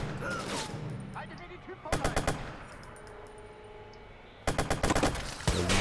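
An enemy's weapon in Watch Dogs fires in three rapid automatic bursts, sharp and close, separated by quieter stretches of ambient game sound.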